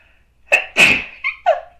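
A single loud sneeze, close up, with a sharp intake and burst followed by a couple of short trailing sounds.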